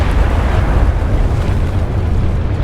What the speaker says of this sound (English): there comes the shell from Burt